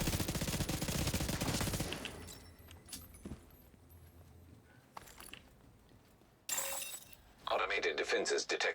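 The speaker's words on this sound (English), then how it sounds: "Get those turrets online!" Automated turrets open fire in The Division video game, with bursts of rapid gunfire that come in separate loud salvos and break off between them, mixed with other game sounds.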